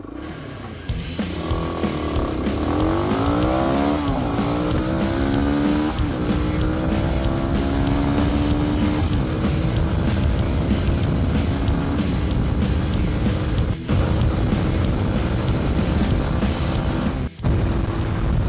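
A Suzuki DR250 Djebel motorcycle accelerating hard, its loud, close engine climbing in pitch through several gear changes and then holding a steady high drone for a long stretch.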